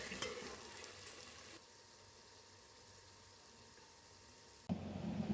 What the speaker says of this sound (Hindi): ऑयल गर्म हो गया है, इसमें मैं प्याज फ्राई करूँगी